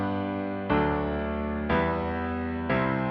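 Four sustained chords of the axis progression play in a loop, each struck cleanly and ringing about a second before the next change, with no voices.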